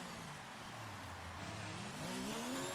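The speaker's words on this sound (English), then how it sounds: "Car Cannon, I think, is also wanting to do a few donuts of his own." A Formula 1 race car in the F1 2019 video game spins through donuts, its engine note rising and swooping under sustained revving, fairly faint and with no talk over it.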